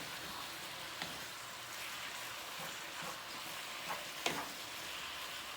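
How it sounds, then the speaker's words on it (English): Seasoned ground beef browns in a hot pan, a steady soft sizzle and crackle with a few faint scrapes as it is stirred, fairly quiet and with no voices. "we're just going to let this ground beef brown up a little bit"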